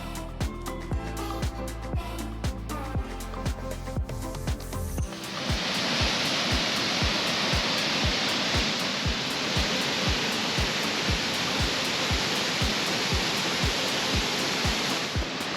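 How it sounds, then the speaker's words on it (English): Steady, dense roar of rushing water from a waterfall in a canyon in the remote mountains of Mexico, constant and close, with rhythmic clicking over it in the first few seconds. "There's 2 waterfalls here, Upper and Lower Falls."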